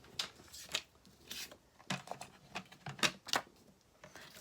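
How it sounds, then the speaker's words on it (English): A paper trimmer slices designer series paper at an angle in a crafting session, giving a few short, close, crisp scraping and clicking strokes in uneven bursts with quiet gaps. "So let's bring the trimmer in."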